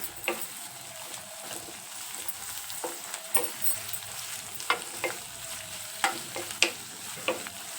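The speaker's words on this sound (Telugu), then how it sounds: "కట్ చేసుకున్న రెండు పచ్చిమిరపకాయలు వేగాక" Two cut green chilies fry in a pan for tomato rice. The hot oil gives a steady sizzle, broken by repeated scraping stirs of a spoon against the pan, all close up and with no voices.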